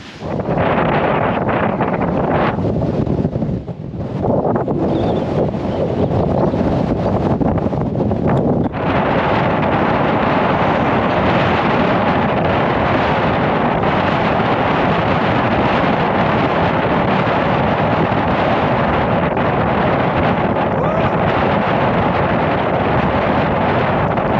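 Strong wind roars and buffets against the microphone nonstop on a hilltop in the Shropshire Hills, Caer Caradoc, a loud, steady rush with brief gusty dips near the start.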